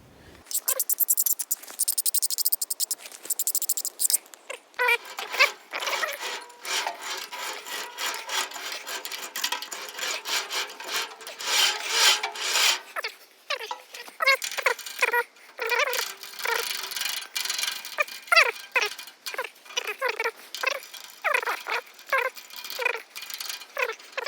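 Debris is scraped and brushed off the belts, rollers and wheels of a bandsaw mill, a busy rasping and rubbing that runs continuously with irregular strokes, near and fairly loud, with no voices.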